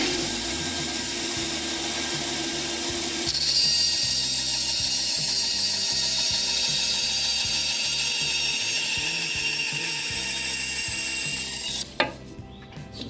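A thin-bladed hand saw, blade about 10 mm, cuts through material while a DIY clock mainspring letdown tool is being built. The strokes come as a steady back-and-forth rasp, loud and close, and end in a few knocks.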